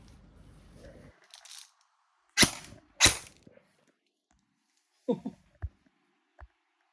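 All-metal AKS-74N replica gun fired in semi-auto, two sharp close shots about half a second apart, followed after a pause by a few fainter clicks and snaps.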